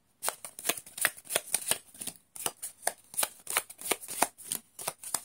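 Tarot cards being shuffled and drawn for a fortune reading on a World Cup match between Japan and Croatia, heard as close, crisp riffling bursts in a steady rhythm, with one brief pause midway and no talking.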